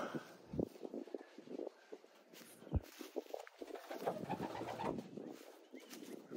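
A racing pigeon at a loft cooing in soft, low throaty bursts, close and quiet, with faint shuffling and patter around it.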